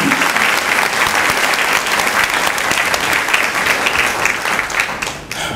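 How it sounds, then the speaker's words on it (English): An audience applauds award winners at a disability awards ceremony held by a mayor's committee, with loud, sustained, dense clapping that holds steady and then thins slightly near the end. "Let's give all our award winners one more round of applause."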